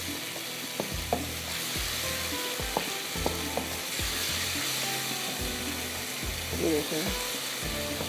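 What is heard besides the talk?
chicken tikka boti frying in masala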